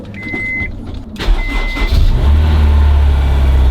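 A Honda S2000 fitted with a K&N intake cranks over with a warning chime beeping, then the engine catches and settles into a loud, steady low idle close by.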